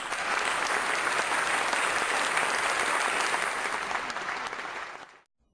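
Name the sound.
studio audience applause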